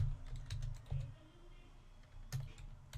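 A password typed on a computer keyboard as a series of quick, soft key clicks in short bursts, close and fairly quiet, with no talking.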